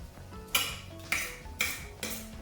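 Broccoli being roughly chopped for a gratin, four sharp knife strikes against a cutting board at a steady half-second rhythm, close and fairly quiet, with no talk.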